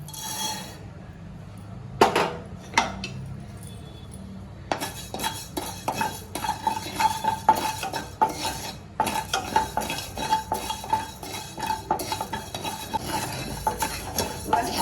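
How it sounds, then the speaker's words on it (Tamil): Rice dry-roasting in a pan is stirred with a metal spoon, giving repeated scraping and clinking strokes against the pan over a faint rustle of grains, fairly close and moderately quiet, with no talking. "அரிசியை வறுத்துருவோம்."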